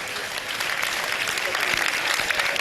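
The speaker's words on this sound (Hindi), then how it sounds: "तालियां बजा दीजिए जी इनके लिए" Dense applause from an audience fills the clip, steady clapping from many hands with a faint murmur of voices underneath.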